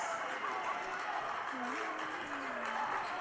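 At a boys varsity high school basketball game between York and Lyons Township, a crowd cheers after a made three-pointer. The continuous roar of the stands runs throughout, with a voice rising over it.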